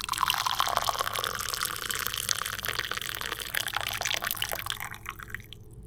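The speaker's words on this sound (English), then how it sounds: "So we have our bouillon cube and we'll put our boiling water over it." Boiling water poured from close by over a beef bouillon cube, a continuous splashing, trickling stream that runs for several seconds and then thins out and stops near the end.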